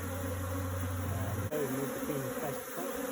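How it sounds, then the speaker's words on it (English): Close, steady buzzing of many African bees droning continuously as they move around a hive box, with a low hum shifting partway through. "we're starting to see just maybe some bees starting to move up"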